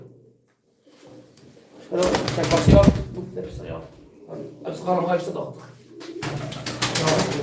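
Soft pigeon coos come in bursts among nearby Turkish talk and rustling during a bird sale, with a clatter or flutter between calls.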